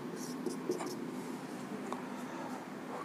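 Pen writing out a torque equation on a surface, heard as faint scratchy strokes and brief taps over steady room noise, with no talking.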